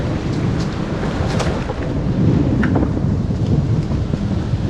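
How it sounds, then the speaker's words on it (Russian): Heavy rain pours down steadily during a thunderstorm on a road out of Lugansk, a dense constant roar close by with gusts of wind noise buffeting the microphone and no voices. "Но он то сильнее, то слабее дождь,"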